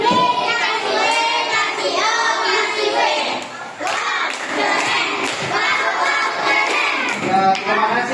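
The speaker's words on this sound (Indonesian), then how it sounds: "Coba kalau teman yang udah presentasi kita kasih tepuk wah." Classmates in a classroom applaud group 4's presentation, a sustained burst of many hands clapping loudly with children's voices and shouts mixed in.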